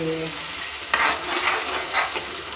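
Onion-and-tomato gravy paste with green masala frying in hot oil, a steady close sizzle with bursts of scraping as a spoon stirs it around the pan, no voices.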